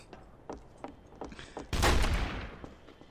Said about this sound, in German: Hast du gerade auf mich geschossen?